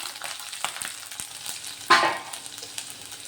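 Garlic, star anise and cinnamon frying in oil for a paneer curry, a steady close sizzle with scattered clicks and a louder burst of stirring near the middle.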